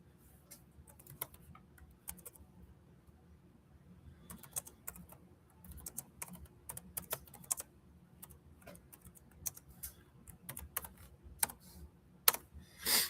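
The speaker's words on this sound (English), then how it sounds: "let me get this live field typed in" Slow, uneven typing on a computer keyboard, with sparse individual key clicks and short bursts, close and fairly quiet in an otherwise silent room.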